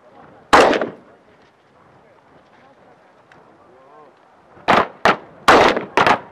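Sniper rifle shots ring out during sniper training, one sharp loud report followed later by a rapid string of four close blasts, with someone talking quietly in between.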